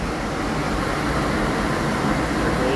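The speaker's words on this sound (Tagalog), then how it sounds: "There goes the MRT once again." An elevated MRT commuter train passes outdoors on a hazy day, heard as a steady, moderately loud rumble and rushing wash of noise that holds evenly throughout.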